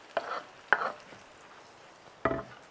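Onion and garlic being stirred in a hot pan for a refrito, three short scraping, sizzling bursts spaced apart, fairly close and moderately quiet with no talk.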